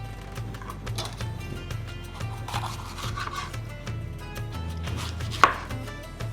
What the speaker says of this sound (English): we're going to chop our red bell pepper